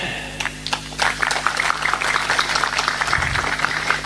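An audience claps continuously at an Indonesian religious gathering, a dense stretch of many hands under a steady low hum.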